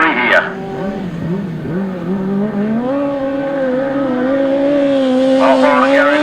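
Race cars scream around the circuit on the final lap, their engines rising and shifting in pitch as they pass up close, while a commentator talks over the din.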